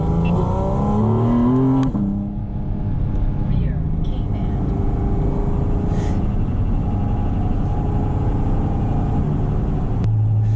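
A Porsche Boxster Spyder RS 718 engine breathing through its carbon fiber intake behind the cabin, a loud rising and falling rumble as the car works through a roundabout, with someone talking over it throughout.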